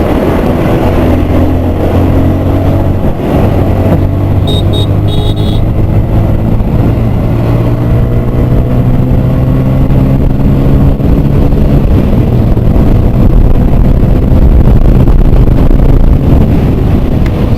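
A Hero Super Splendor BS6 motorcycle runs while being ridden, its engine giving a steady hum with shifting tones under strong wind buffeting, loud and close throughout.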